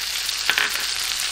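Butter sizzling in a hot pan beside a cod fillet, a brief, even crackling hiss with a small spatter burst midway.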